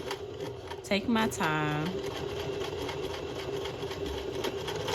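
Kenmore Series sewing machine topstitching with reverse stitches, a short buzzing run of stitching, a brief pause, then another quick burst of stitching, with a voice talking quietly beside it.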